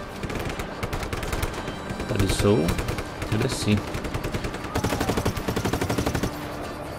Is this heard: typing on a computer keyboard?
no